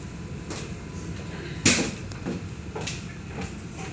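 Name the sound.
light rail tram doors opening at QVB stop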